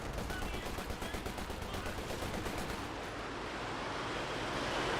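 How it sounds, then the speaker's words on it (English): A Panzerwerfer rocket barrage and gunfire in Company of Heroes 2, a dense, loud wash of rapid bursts and rumbling explosions that swells into continuous roaring noise. "Panzerwerfer Barrage running on in."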